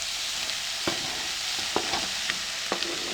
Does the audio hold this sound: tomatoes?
yes